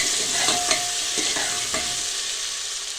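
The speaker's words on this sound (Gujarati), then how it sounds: "ટમેટા બધું સરસ આપણે તેલમાં મિક્સ કરી લેવાનું છે" Tomatoes stirred into hot oil while cooking stuffed brinjal and potato, with a continuous loud sizzle and several spoon scrapes against the pan, close and with no one speaking.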